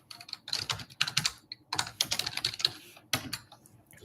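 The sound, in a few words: typing on a computer keyboard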